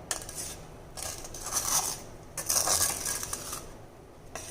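Badusha being stirred through hot sugar syrup in a metal pot, a few bursts of spoon scraping and clinking against the pot with quiet gaps between, close and moderately loud.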